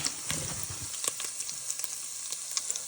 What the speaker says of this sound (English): you want to let it fry and soak up that grease